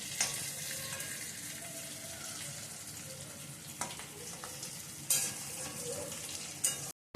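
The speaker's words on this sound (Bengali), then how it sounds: "নিয়ে এবার আমি ওগুলোকে আলাদা করে ফ্রাই করে দিচ্ছি।" Pressure-cooked potatoes fry for chicken biryani in a steady, close hiss of oil that runs throughout, with a few sharper crackles and pops breaking through near the end.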